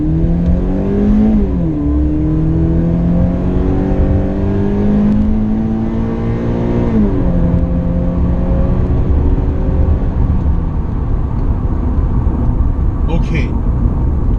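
A 2013 Toyota 86 engine revs freely while driving, pitch climbing and dropping through several gear changes in sustained, loud harmonic sweeps, with a voice talking over it for part of the run.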